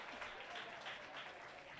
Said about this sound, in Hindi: हमारे बच्चों के लिए जोरदार ताली बजाएंगे।